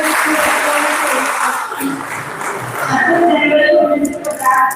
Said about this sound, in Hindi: इस बच्चे के लिए तालियां बजाते हैं।